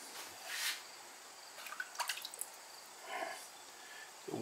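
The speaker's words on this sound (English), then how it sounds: "we're going to dip the whole thing in my water pot there" Faint, scattered drips and small splashes of water fall from a clay teapot dipped into a potter's water pot, quiet and sparse against a near-silent background.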